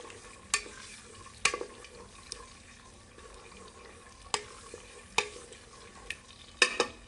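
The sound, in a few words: stirring Italian spaghetti sauce in a pan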